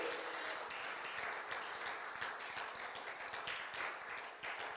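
A church congregation applauds for the Lord in a continuous, even wash of clapping heard from a distance and held steady throughout, with no voices above it.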